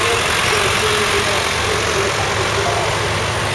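A vintage tractor with a J.I. Case engine idles and chugs in a show ring parade, a loud, steady engine drone close by.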